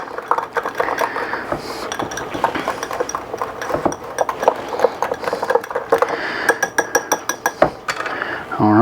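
A whisk clinks rapidly against a bowl while a mixture is beaten for blackened catfish tacos, a busy run of close metallic ticks and taps, with a voice speaking at times.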